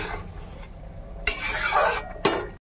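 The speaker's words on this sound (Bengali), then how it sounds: "তো এই যে ঝোলটা ফুটে উঠেছে।" Fish curry gravy (mourala fish jhal) seasoned with turmeric bubbles steadily in a pan with a close, broad hissing boil, punctuated by two sharp clanks of a utensil against the pan.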